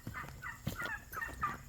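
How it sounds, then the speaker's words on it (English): Turkeys gobble in a pen on a small farm, a quick run of several warbling gobbles close by and fairly faint, with no voices over them. "the turkeys are in here."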